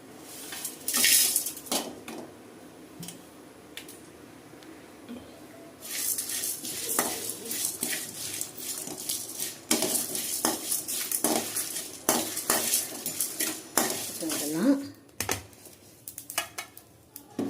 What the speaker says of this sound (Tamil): இதெல്லாம் வந்து ட்ரையாக வறுத்து பவுட்ரு பண்ணிக்க போகிறோம்